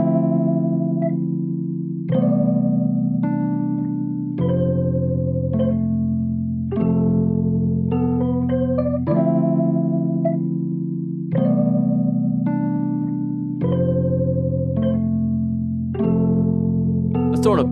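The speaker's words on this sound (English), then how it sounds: "But let's add this cheesy organ in." A cheesy organ patch from Native Instruments' Moonshell and Jade plays sustained chords that shift every couple of seconds, loud and steady with a bright, slightly buzzy tone and a brief melodic figure on top.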